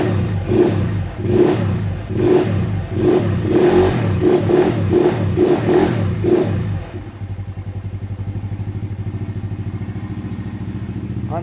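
A Hytrack HY80S quad engine is revved in a rhythmic series of about a dozen throttle blips, close and loud, then settles to a steady idle with no talk.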